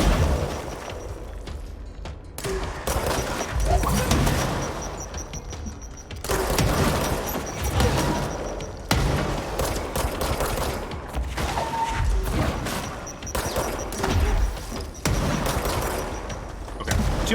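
Repeated grenade blasts and bursts of gunfire in the video game Control, heavy booms and crackling shots following one another for the whole stretch, loud and close, with no talking.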